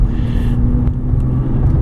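A 1999 Mercedes-Benz W140 S-Class rolls over uneven, potholed pavement, giving a loud, steady low road rumble from inside the cabin with a faint thump partway through.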